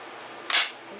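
Staple gun fired once into a wooden scroll frame for a diamond painting, a single sharp snapping crack at close range against quiet background.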